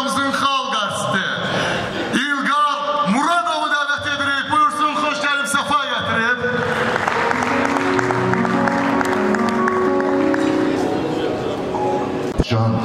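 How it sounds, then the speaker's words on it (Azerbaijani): A crowd at a lavish birthday party claps to welcome an artist, with steady applause swelling and continuing; a voice talks over the start and the clapping carries under festive sound. "mən istəyirəm ki, hər biriniz alqışlarla qarşılayaq o sənətkarımıza"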